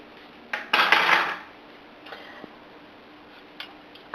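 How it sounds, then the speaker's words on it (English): Gold potatoes and organic carrots tumbled into a metal stock pot, a loud close rattle and clatter lasting under a second, followed by a few light knocks and taps in a quiet kitchen. "And I'm going to put those in my stock pot."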